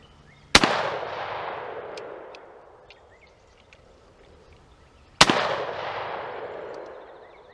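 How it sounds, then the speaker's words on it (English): A shotgun firing old Winchester shells, roughly 30 years old, outdoors: two loud, sharp blasts about five seconds apart, each followed by a long rolling echo that fades away, with no talk. "Let's shoot some more, let's shoot some of this 30-year-old Winchester."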